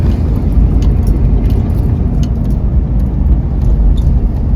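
A 1985 Chevy K5 Blazer 4x4 drives on small country back roads in Germany, with a loud, steady low engine rumble and road noise from inside the cab and faint light rattles above it.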